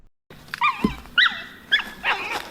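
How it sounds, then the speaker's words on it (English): Border collies near a cage trap: close, high whines and yelps in three or four short bursts, with a faint thump between them. "I don't know anyone in the area that's got all these border collies."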